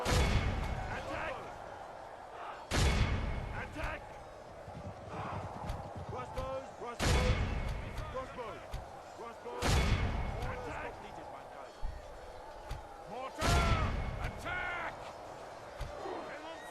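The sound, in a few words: cannon artillery fire in video game Medieval 2 Call of Warhammer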